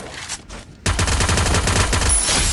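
Rapid gunfire in a shooting video game, a short quiet lead-in followed by a sudden dense, loud burst of continuous shots.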